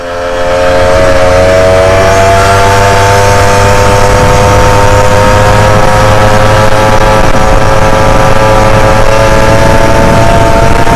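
A modified motorcycle engine with a stock, unjetted carburetor on its first run, ridden on a road: a loud, continuous droning whine with steady tonal harmonics that climb slightly as it speeds up, close to the listener and without talk.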